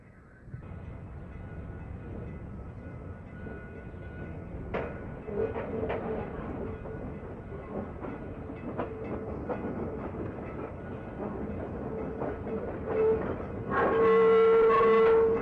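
An ex-Grand Trunk Western 0-8-0 steam locomotive works a steel and wire mill plant railroad, producing a continuous rumbling chug with repeated clanks and a steady whistle-like tone, swelling louder near the end.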